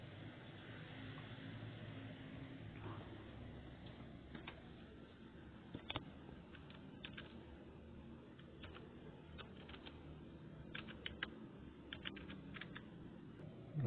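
Quiet typing on a computer keyboard, with soft, scattered key clicks that come in short irregular bursts over a steady low background hum.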